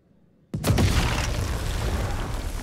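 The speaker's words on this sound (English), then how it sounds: "Why would you make a giant explosion?" A giant explosion in the video game House of Ashes erupts suddenly after near silence, a loud close boom followed by a sustained rumbling roar that keeps going.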